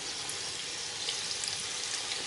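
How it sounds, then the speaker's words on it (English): Battered chicken legs deep frying in hot oil, a steady dense crackling sizzle that holds evenly throughout with no talk over it. "whilst these legs are frying"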